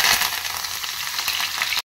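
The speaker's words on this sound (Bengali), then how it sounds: "তেল গরম হয়ে গেছে, তো সবচেয়ে প্রথমে আমি দিয়ে দেবো এই কারি পাতা।" Whole curry leaves dropped into hot oil in a wok crackle and hiss loudly in a short, dense burst that cuts off abruptly.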